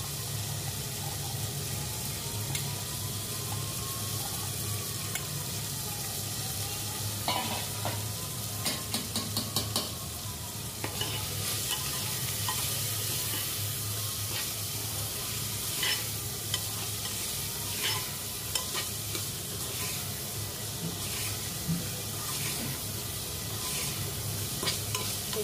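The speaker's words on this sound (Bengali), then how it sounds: "সবজিটা ভেজে তুলে নেবো" Vegetables salted in a hot pan fry with a continuous soft sizzle while a spatula stirs and scrapes them, clattering and clinking against the pan in irregular bursts close by.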